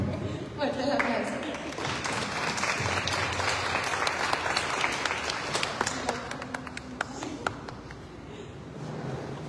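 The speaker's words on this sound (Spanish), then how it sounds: "Fuerte el aplauso." Sustained audience applause and clapping at a candidate presentation for ambassador of the Feria Nacional Potosina 2024 pageant, a steady dense crowd roar with scattered sharp claps and some voices mixed in, continuous throughout.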